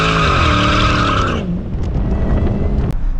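Dodge SRT Demon 170 breaking traction, its tires spinning with a loud sustained roar and squeal that cuts off abruptly after about a second and a half, leaving rumbling engine noise and road sounds.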